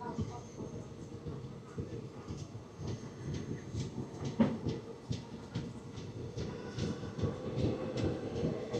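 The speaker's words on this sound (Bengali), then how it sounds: "আর এখন আমাদের ট্রেন পেরিয়ে চলে গেল খাগড়াঘাট রোড স্টেশন।" The Teesta Torsa Express runs past Khagraghat Road station in the evening, a steady rumble of wheels and carriage noise with faint rhythmic clatter heard from on board and continuing throughout.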